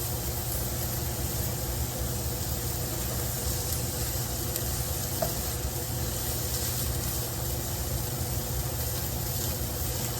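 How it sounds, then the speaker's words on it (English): Tomato paste sizzling in a hot pan, a steady close hiss and crackle that stays at an even level throughout, with no talking. "So right now, you just want to cook the tomato paste down just a little bit, just to cook down some of the flavor."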